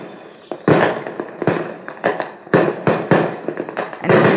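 Recorded fireworks played back for puppies: a loud series of sharp bangs and crackling bursts in an irregular rhythm, each blast followed by a short decaying rumble.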